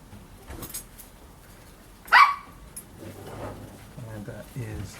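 A small dog gives a single sharp yelp or bark, fairly close, in a garage-like setting during work on a 2013 Ford Ranger load lid, with quiet talk and handling noise around it.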